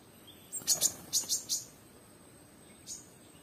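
Wild birds freshly released outdoors give a quick run of six bright, high chirps, then one lone call a moment later, faint over quiet background hiss.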